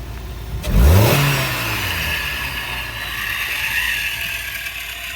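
A jump-started car at a Norfolk police auction idles, then is put in gear and revved. A rising engine whine sweeps up sharply near the start before settling into a loud, steady running drone.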